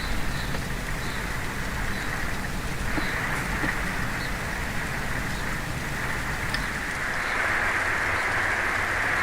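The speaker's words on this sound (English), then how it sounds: "Boy, you can really hear that rain coming down out there now." Rain falling steadily outside a camper at an Oregon coast campground in March, heard from indoors as a constant, even hiss and patter of moderate loudness with no voices.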